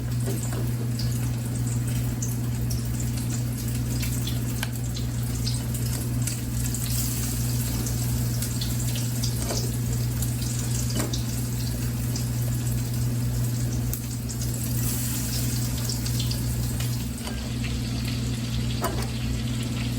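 Catfish bites frying in hot lard in a pan, a continuous loud crackling sizzle with a steady low hum beneath and occasional sharper pops, with no talking.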